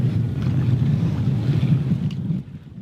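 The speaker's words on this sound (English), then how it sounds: "Ooh, there's a little bit of wind." Wind on a sailboat at sea, a steady low rushing buffet against the microphone with faint water wash underneath, easing off near the end; no voices.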